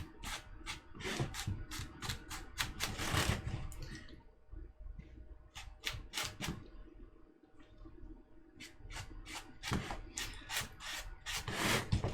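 Rough, scratchy bursts of abrasion scuff the painted surface of a mini nuke prop, coming in quick irregular strokes with short pauses between them, close and fairly quiet.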